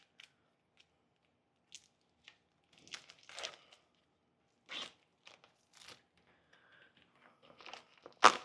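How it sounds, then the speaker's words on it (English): String cheese is cut into hunks with a series of short, sparse snips and crinkling packaging sounds, irregular and close, separated by quiet gaps. "now I need to cut my string cheese into hunks"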